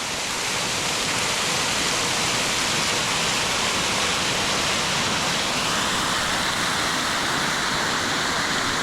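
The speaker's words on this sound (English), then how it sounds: "For such a short distance to hike and to be able to see a waterfall like this, it's really, really awesome." Waterfall on a short Smokies trail in Great Smoky Mountains, a loud, dense, unbroken roar of rushing water filling the whole stretch with no voices.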